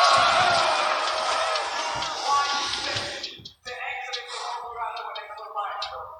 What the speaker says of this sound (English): Hey, the crowd.